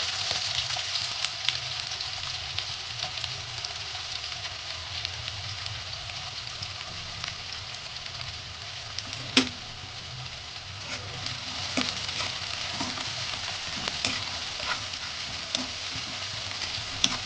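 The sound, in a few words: onion frying with cumin, mustard seeds and curry leaves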